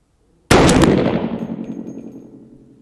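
A 350 Legend rifle firing 85 grain hollow point rounds outdoors, heard as one loud, sudden close report that rings out and fades slowly over about two seconds.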